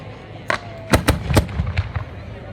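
Fireworks at the 2022 town fair in Tembleque, Spain, burst in a quick run of sharp, loud bangs and crackles over a low background rumble, with voices faintly audible nearby.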